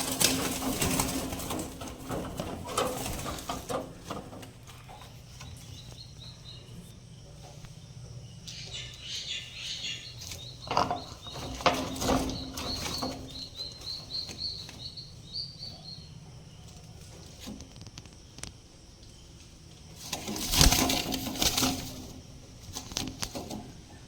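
Fancy pigeons (frillback, swallow and black pomeranian breeds) kept as a hobby flock, cooing softly and repeatedly at close range, with occasional louder bursts of fluttering and movement.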